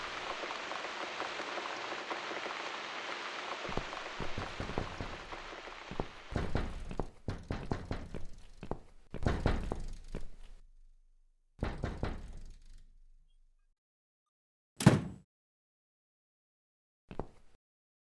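Soft rain patters through the start of a night scene in The Cat Lady horror game, then a series of dull knocks at a door come in irregular clusters, followed by a few isolated thuds amid quiet.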